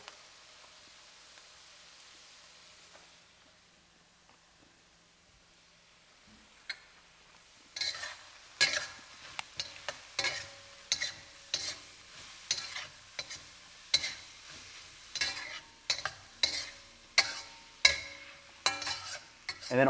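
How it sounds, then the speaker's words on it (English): Thai basil stirred into a beef stir fry with the heat turned off: near-silence for several seconds, then a close spatula scrapes and clacks against the pan in a steady, loud rhythm over a faint sizzle. "and then we'll stir in all of our Thai basil"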